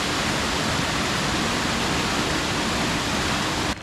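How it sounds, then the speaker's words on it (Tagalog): River water runs into a pool at a springs resort in Laguna, a loud, steady rushing hiss like a small waterfall that holds unbroken until it drops off right at the end. "running water mula sa ilog"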